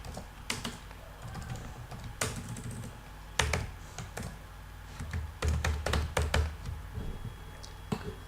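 Rapid bursts of typing on a computer keyboard while writing PHP code, irregular clusters of crisp key taps with short pauses, close and fairly quiet, no talk.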